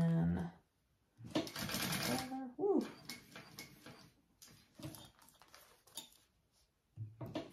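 A sewing machine runs black thread through black webbing on a small fold-up zip backpack, stitching in short, close bursts separated by pauses, with a person talking between runs.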